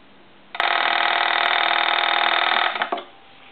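A TA military telephone Model 954 bell rings loudly and continuously for about two seconds, a harsh metallic clatter that stops abruptly with a brief rattle.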